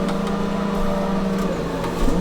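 A competition drift car in Assetto Corsa holds a steady, loud engine drone with tire noise while sliding with the e-brake pulled, the pitch wavering and rising slightly near the end.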